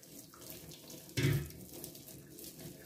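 Boiled water poured over a tree branch for an aquarium, a brief, close splash and gush of liquid striking wood lasting under half a second against quiet background.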